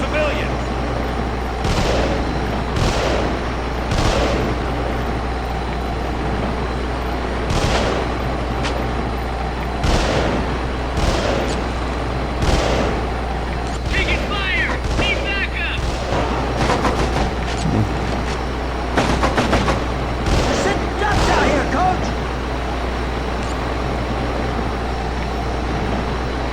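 Gunfire and explosions in the Black Hawk Down Team Sabre video game, repeated sharp shots and blasts over a constant low rumble, with a few rapid bursts in the middle.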